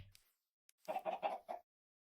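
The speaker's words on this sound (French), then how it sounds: "de temps en temps, ça fait apparaître une poule, une autre poule" Chickens in the game Minecraft clucking, a brief faint peep then a quick series of four clear clucks close by, each short and bright, with quiet gaps around them and no talk.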